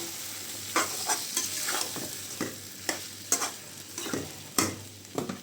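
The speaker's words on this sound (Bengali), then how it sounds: "এখন মাংসটা খুব ভালোভাবে এখানে নাড়াচাড়া করে কষিয়ে নেব।" Chicken meat stirred and fried in a pan, a steady sizzle broken by repeated sharp scraping strokes of the spoon at irregular intervals, close by with no talking.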